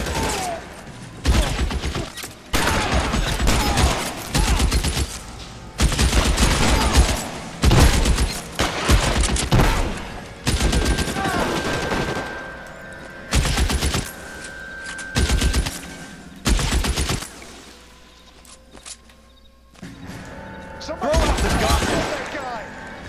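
Gunfire in L.A. Noire during a rifle shootout, with repeated loud bursts of shots in clusters across the stretch, separated by short lulls, mixed with game dialogue and someone talking over the action.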